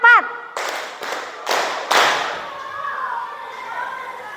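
A school class claps out a rhythmic ice-breaker pattern: a brief voice, then four sharp, evenly spaced group claps that fade into a low murmur of children.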